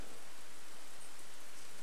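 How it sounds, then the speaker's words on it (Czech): Steady rain falls on a Saturday, a dense, even hiss of drops without pause across the short stretch, fairly loud and with no voices. "Dneska je sobota a prší."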